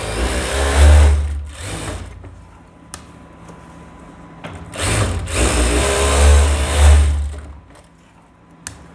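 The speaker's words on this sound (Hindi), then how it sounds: "इस तरीके से दोस्तों डबल सिलाई कर लीजिएगा" A sewing machine runs double stitching along a trouser zip in two loud, close bursts of rapid whirring, with a quieter gap between them.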